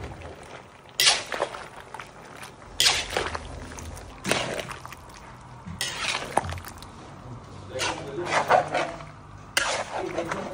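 A large pot of menudo with tomato sauce and tomato paste being stirred, giving repeated scraping, clinking strokes of a spoon against the metal in irregular bursts, close and moderately loud, with no talking.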